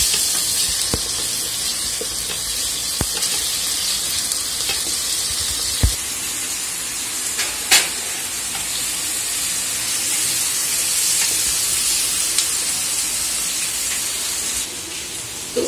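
Garlic and onion frying in a pan, a steady close sizzle with light stirring scrapes and a few sharp clicks, with no voices.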